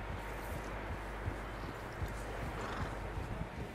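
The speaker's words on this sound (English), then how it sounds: "Horses, quite a few of them." Several horses walk with steady clip-clopping hooves in the video game Red Dead Redemption 2, a faint, continuous patter of hoofbeats over a low background rumble.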